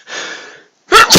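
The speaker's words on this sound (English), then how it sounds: "Ooh, I gotta sneeze." A person sneezes loudly and close by: a drawn-in breath builds, then two sharp, explosive bursts follow in quick succession.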